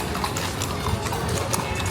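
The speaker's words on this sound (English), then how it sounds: "When you see horses pulling tourists" Horse hooves clip-clop on a city street at night in Cartagena, a quick irregular clatter of hard knocks within dense, noisy street ambience.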